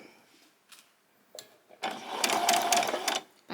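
A sewing machine stitches a pyjama top, with a few soft clicks and taps before the motor whirs up into a steady rapid stitching run lasting over a second, close and moderately loud.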